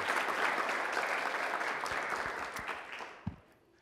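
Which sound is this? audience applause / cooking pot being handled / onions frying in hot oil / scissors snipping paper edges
audience applause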